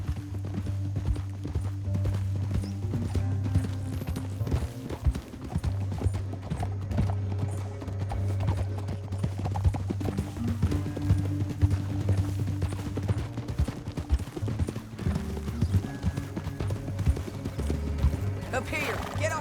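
Horse hooves clatter in a fast, continuous galloping rhythm under a steady low rumble in a canyon in the video game Red Dead Redemption 2, with voices speaking over it.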